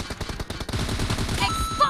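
Rapid automatic gunfire bursts from the mobile battle-royale game PUBG, a quick staccato string of shots followed by denser, overlapping fire.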